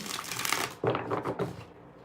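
Tarot cards being shuffled by hand, a dense papery riffle and rustle of card stock in two or three close bursts with brief pauses between.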